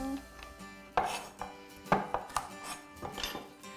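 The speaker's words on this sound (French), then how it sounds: "Je vais râper la carotte" A carrot being grated by hand, giving several sharp scraping strokes and knocks against a grater and bowl, close and fairly loud, with no talking.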